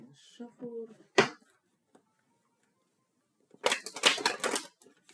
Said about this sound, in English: Get our cards nice and shuffled.